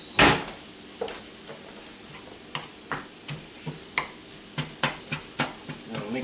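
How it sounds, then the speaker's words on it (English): Ground beef browning in a pan for bacon cheeseburger eggrolls, a low sizzle under a regular series of sharp scraping knocks from a utensil crumbling the meat. "We're going to let that cook until the meat's completely browned and finished."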